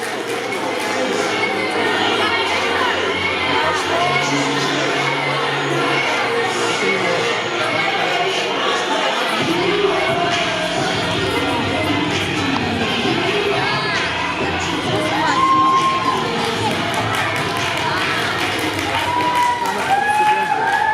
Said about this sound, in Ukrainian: Аплодисменты приветствуют команду учителей.